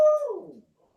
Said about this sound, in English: I think the dog's answering you.